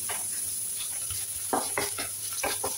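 Ginger frying in oil in a pan, a soft steady sizzle with several brief stirring scrapes and clatters in the second half, close and moderately quiet, with no talk.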